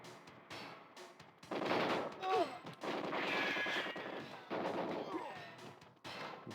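Guards fire guns in the video game GoldenEye 007, with bursts of shots across most of the stretch and brief pauses in between. Game sound effects play over a busy mix.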